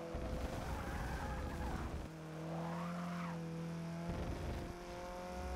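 A Porsche in the Forza Motorsport 6 racing game drives with a steady engine drone, shifting pitch as it accelerates and eases off, with faint tire squeal, heard alone without talk.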